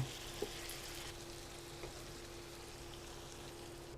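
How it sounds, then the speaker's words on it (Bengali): Spices with salt frying in a pan for beef masala, a faint, even sizzle with a couple of small clicks at the start, otherwise alone. "এই মশলাগুলোর সাথে আবার আমি এটা ভেজে নিব"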